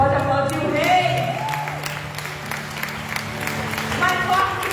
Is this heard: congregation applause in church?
yes